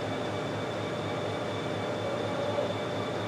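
A train at Suncheon Station in South Korea gives a steady, loud rumble and hum of rolling stock, continuous and close throughout with no talk.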